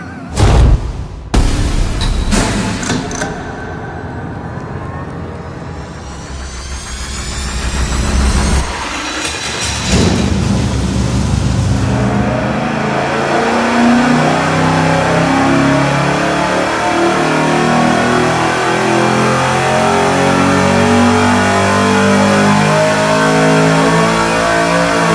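A 620-horsepower car engine starts with a few loud bursts, then revs up and settles into a loud, rough, continuous roar.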